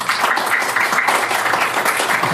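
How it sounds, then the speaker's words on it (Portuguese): Audience applause welcoming a speaker at a condominium management lecture, a steady, even wash of many hands clapping throughout, no voices heard. "Gostaria de chamar aqui uma salva de palmas"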